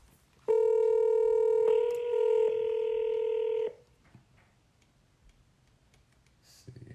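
Telephone call being placed: a loud steady tone with a brief shift in pitch holds for about three seconds, then stops, followed by faint quiet background.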